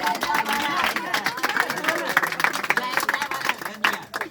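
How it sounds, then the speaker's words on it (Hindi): Children at an Indian coaching centre clap for themselves, a scattered, irregular patter of many hands mixed with lively chatter and voices around them. "तो बच्चे अपने लिए ताली बजाइए।"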